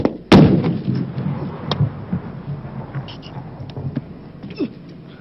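A war film shoot for Border (1997) where real weapons fire blank rounds: one sharp, loud close report followed by scattered distant pops and rumbling battle noise.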